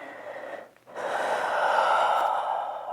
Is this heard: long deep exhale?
yes